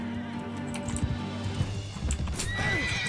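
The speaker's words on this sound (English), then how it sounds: "Yikes, they hit my horse." In a Mount & Blade II: Bannerlord siege battle, a horse gives a sharp whinny amid clattering hooves and the scattered clash of combat, close and moderately loud.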